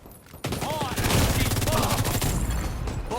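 Dense bursts of automatic gunfire from the shooter video game The Division 2 erupt suddenly and continue loudly in a sustained fusillade, with a voice talking underneath.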